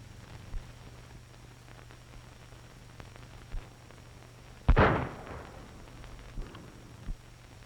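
Gunfire in a 1935 western, a single loud crack with a brief echoing tail over a low hum of old film noise, flanked by a few faint thuds.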